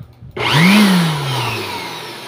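Electric blower blasting dust out of a computer system unit, switching on abruptly and spinning up to a loud, high-pitched whine that then settles into a steady roaring hum, close and alone.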